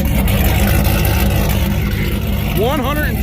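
A car with an AWE exhaust, longtube headers and an aftermarket cam roars loudly and continuously at high revs, with a rising engine sweep near the end and a voice talking over it.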